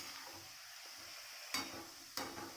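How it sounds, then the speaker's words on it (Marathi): A spoon stirs a vegetable with dal and a cumin and garlic tempering in a pan, giving a faint steady sizzle with two sharp scrapes of the spoon near the end. "आता ही चांगली मिक्स करूया डाळ आणि ते सगळं लसणाचं जिरे लसूण फोडणी घातलेली"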